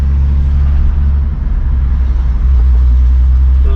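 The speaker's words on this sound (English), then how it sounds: "The VR6 wagon lives again after a very, very long time." Turbocharged VR6 engine in an MK3 wagon, revived after sitting rusted for years, runs with a loud, steady low rumble close by and no speech.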